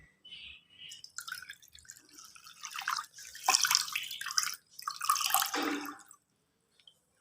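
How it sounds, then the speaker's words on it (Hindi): Water is poured from a glass into a finely ground mixture for a pigeon remedy, giving a few quiet, close trickles and splashes in short bursts with silence between. "तो अभी आप इसमें एक गिलास पानी का भी ये डाल दें।"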